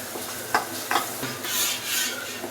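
Ginger paste mixture stirred in a hot pan for a spicy egg curry, a low sizzle with a few scraping strokes of the spoon against the pan, close and unaccompanied by talk.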